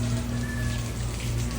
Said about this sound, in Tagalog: Umuulan pa yan guys